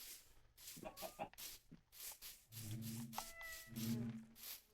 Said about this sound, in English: the cat is making another appeal for attention.